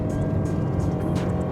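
Engine and cabin noise from a 2025 Toyota Vellfire being pushed hard: a dense, steady low roar and rumble filling the cabin, continuous and fairly loud with no talk.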